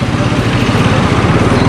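A new Yamaha-type road bike, unnamed beyond 'new motorcycle', runs steadily on a test ride near Kaskikot: a loud, continuous low engine drone with a constant throb throughout, with no pauses.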